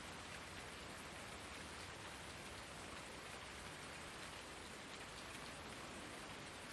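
Steady rain pours over a dark outdoor scene in the video game Farming Simulator 2019, a continuous soft hiss of drops on surfaces that stays even and moderately faint throughout, with no voices.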